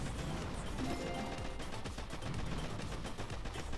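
Artillery shots and explosions in the mobile strategy game Boom Beach, fired at an enemy HQ. A steady, dense barrage of blasts and rapid firing continues for the whole clip at moderate level.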